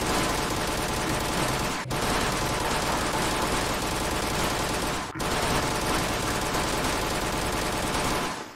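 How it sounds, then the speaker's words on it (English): Rapid gunshots from a gun in a video game mod, a dense, steady barrage of shots that runs nearly unbroken, with two brief gaps, and no talk over it. "I'm just gonna shoot."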